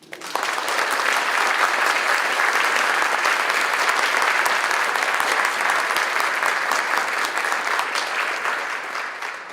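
An academic awards ceremony audience applauds a prize winner with steady, dense clapping that begins sharply and holds at full strength for nearly ten seconds, fading slightly at the end.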